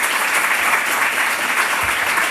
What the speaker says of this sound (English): And can I get a round of applause for our wonderful debaters?